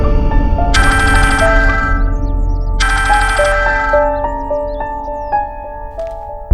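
A phone ringtone chimes in two bursts over a steady musical backdrop in a Hindi TV drama, with no talking.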